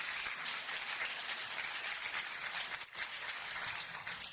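A church congregation applauds for the Lord at a Spanish-English bilingual sermon, a steady wash of many hands clapping together, loud and sustained throughout with only a brief dip near the end.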